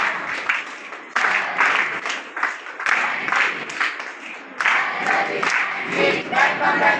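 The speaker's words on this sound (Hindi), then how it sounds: "बहुत जोर से तालियां बजाकर एक बार सर का दोबारा से वेलकम कर दीजिए" An audience at a Red Cross camp claps loudly to welcome the camp director, a burst of applause that swells and fades in waves, with some cheering mixed in.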